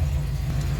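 Rebuilt 304 V8 in a 1979 AMC AMX running with a fuel-delivery problem, a steady close low rumble with no breaks across the short stretch.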